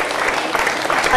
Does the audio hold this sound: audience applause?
yes